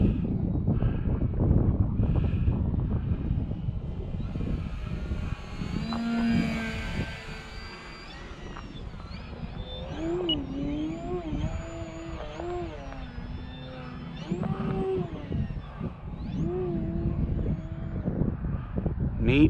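An E-flite Sportix RC airplane with a symmetrical airfoil flies overhead, its small motor whining and shifting pitch as it passes, under steady wind noise on the microphone.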